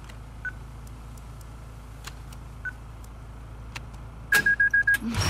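A few soft beeps, then a quick run of six evenly spaced electronic tones as a safe keypad code is entered in The Last of Us Part II, over a low hum.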